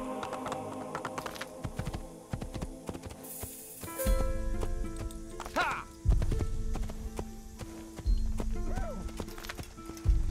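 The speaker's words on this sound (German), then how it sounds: "Ich versuche mal gerade ein bisschen vorsichtiger zu reiten und niemanden umzureiten." Horse hooves clip-clop while riding in the Assassin's Creed video game, with a horse neighing and keyboard typing clattering alongside, fairly loud and near.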